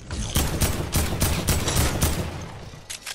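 Gunfire in the Fortnite video game comes in rapid, loud, close bursts of repeated shots, about ten sharp cracks, with a short pause before the last few.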